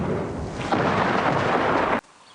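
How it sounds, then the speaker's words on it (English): Thunder rolling through a thunderstorm: a loud, continuous rumble that swells slightly partway through, then cuts off abruptly, with no voices. "Thunderstorms form when hot, humid air rises rapidly in the atmosphere, causing rain, lightning, and thunder."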